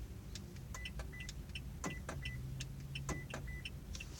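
A failing door lock actuator on a 2015 Toyota Corolla, heard as a series of short faint clicks and buzzes as it tries and fails to open, over a low steady hum with no talking.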